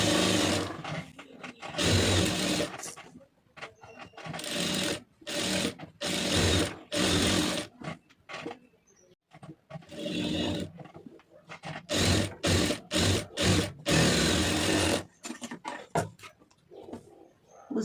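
A sewing machine stitches the lining of a blouse in quick rhythmic runs of rapid mechanical chatter, starting and stopping repeatedly with short pauses between bursts.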